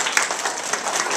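Audience applause at an environmental puppet show, a dense broadband clatter of many hands clapping steadily and fairly loud throughout, with no talking over it.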